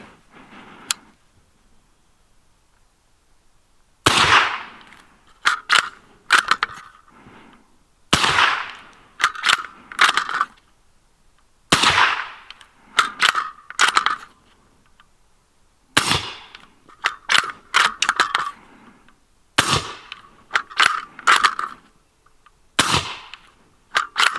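Suppressed 300 Blackout rounds fired from a bolt-action rifle: seven sharp reports spaced a few seconds apart, each with a short ringing tail and clattering bolt cycling between, loud and close with no talk.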